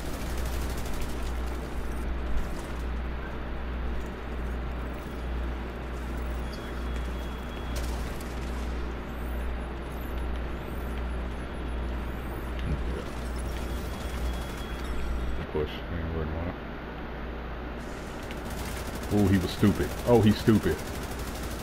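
Heavy automatic gunfire and explosions rattle through a clan PvP firefight in a shooter game, a dense continuous barrage with sharper bursts near the end, while players talk over it.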